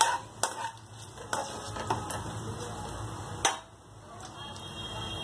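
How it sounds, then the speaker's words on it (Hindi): A spoon stirs crushed cloves, black pepper and cardamom into paneer masala in a pan, scraping and clinking with several sharp taps over a faint sizzle, close and fairly quiet. "करके हम अच्छी तरह से मिक्स करेंगे"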